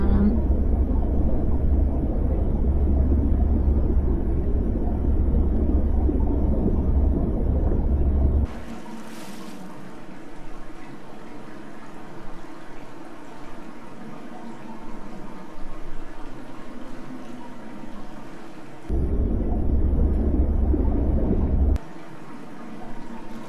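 Swimming underwater through a cave tunnel in Dear Esther brings a muffled, deep, rumbling water drone that fills the opening stretch. It drops away to quieter ambience with a voice talking, then the submerged rumble returns briefly near the end.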